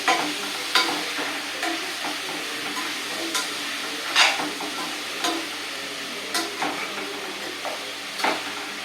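Mixed vegetables for kathamba sambar sizzle steadily in a hot pan while a utensil stirs and scrapes at irregular intervals, close and fairly loud.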